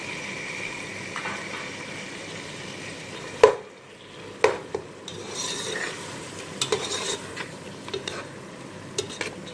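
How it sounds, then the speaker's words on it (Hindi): Sliced tomatoes stirred into matar pulao in a pot, a spoon scraping and knocking against the metal in sharp, irregular clinks over a low, steady background, with no voices. "अच्छी तरीके से मिक्स करेंगे।"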